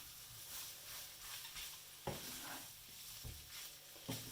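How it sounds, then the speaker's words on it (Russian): Chicken liver with onion and carrot stirred in a frying pan, a steady sizzle broken by a few sharp scrapes and knocks of the utensil against the pan, with no voices. "Теперь возвращаем сюда лук с морковкой. Все перемешиваем."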